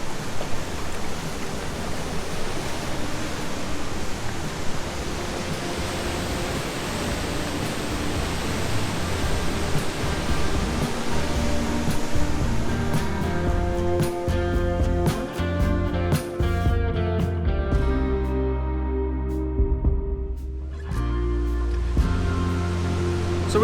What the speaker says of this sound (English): Huge waterfall.